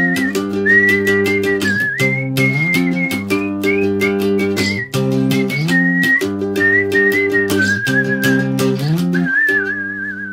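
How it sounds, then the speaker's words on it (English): Melodic solo whistling floats above a steady, rhythmic strummed three-string cigar box guitar playing La Bamba. The whistle is loud and close, and the guitar continues underneath throughout. "and start whistling"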